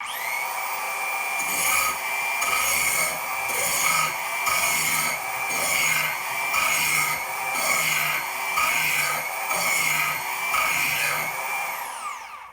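An axe edge is held against a sandpaper grinder to form a 2 to 3 millimetre bevel, giving a loud, sustained whine broken by regular rhythmic grinding pulses about every second.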